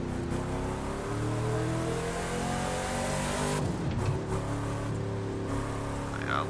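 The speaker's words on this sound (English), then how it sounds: "This Camaro is sounding pretty fucking awesome." Engine of a 1971 Camaro Z28 in The Crew 2 video game, a loud, steady V8-style drone with layered harmonics holding through, then a brief shift in pitch midway as it revs on, with no talk.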